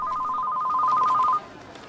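A telephone rings for an incoming call, a close, loud warbling electronic trill that sounds continuously for over a second and then stops abruptly.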